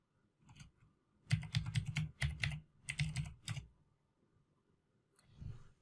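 A computer keyboard clicks in short quiet bursts of keystrokes as a password is typed, with brief gaps between the runs and a final few taps. The sound is close and there is no talking.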